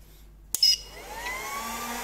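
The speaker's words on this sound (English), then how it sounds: "it's a bit noisy, but the fans are coming on" A 2000W pure sine wave inverter switches on with a sharp click, and its cooling fans then spin up into a steady whirring hum with a rising tone that holds through to the end.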